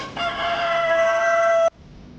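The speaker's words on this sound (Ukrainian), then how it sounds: "Дуже гарний півничок." A single crested rooster crows loud and close, one long sustained cock-a-doodle-doo that cuts off sharply, leaving quiet background.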